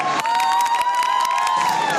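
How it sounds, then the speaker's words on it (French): A crowd of young people at World Youth Day in Sydney claps and cheers as the pope arrives, a dense, bright wash of applause with whistles and shouts, steady and loud throughout. "donc on applaudit, on se met dans l'ambiance"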